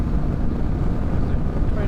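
Strong wind buffeting the microphone on a hot, windy day in Wales, a loud, dense low rumble with constant gusty fluctuation throughout the short stretch.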